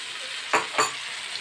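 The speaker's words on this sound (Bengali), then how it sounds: "টমেটোটা ভালো করে একটু কষিয়ে নেব, ওর কাঁচা গন্ধটা চলে যাওয়া পর্যন্ত।" Tomato and cashew paste sautéing in a pan for an Egg Lababdar curry base, with two short stirring scrapes rising over a soft, steady sizzle.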